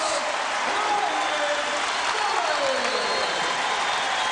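A basketball arena crowd roars and applauds after a three-point play in an SIU versus Wichita State game, loud and sustained throughout.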